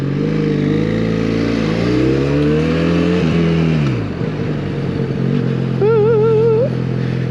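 A Benelli Leoncino 500 motorcycle engine revs loud and close as the rider accelerates, the pitch rising through gear changes before settling, with no talking.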